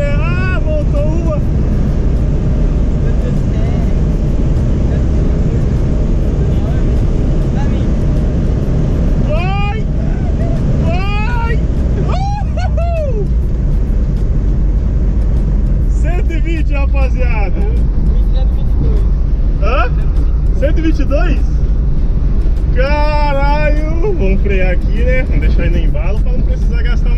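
A Chevrolet Chevette accelerates from 0 to 120 km/h, heard from inside as a loud, steady engine drone with wind noise, while people talk over it.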